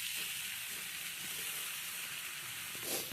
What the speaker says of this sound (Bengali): সয়াবিন আলু খুব ভালোভাবে মিশিয়ে নেওয়া হচ্ছে